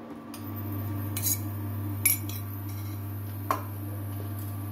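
A spoon mixes egg with onion and chili in a bowl, giving a few sparse light clinks and taps against the dish over a steady low hum.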